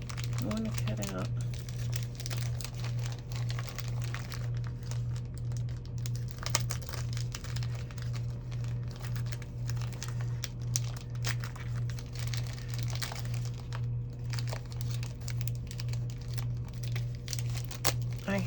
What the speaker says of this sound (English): I want to use this napkin with these flowers. And then I want to cut out, I want to use part of this napkin.